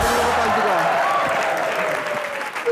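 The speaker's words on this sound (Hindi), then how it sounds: "जोरदार ताली से स्वागत कीजिए" Studio audience at an Indian TV comedy show breaks into loud, sustained applause that fills the room, with a voice speaking over the clapping.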